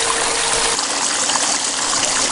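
Loud, steady rush of water flowing through a pump-fed backpack sluice box while running dirt, a continuous close wash with no talking.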